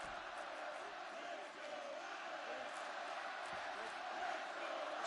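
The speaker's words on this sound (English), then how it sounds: "This crowd is going sick after what they saw in that previous round." A crowd cheers in the UFC 6 video game, a constant loud roar of arena noise that stays dense and unbroken throughout.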